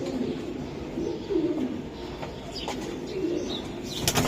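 Almond pigeons kept as fancy birds at a seller's loft coo softly in low repeated phrases, with faint rustling and chirps around them and no talk.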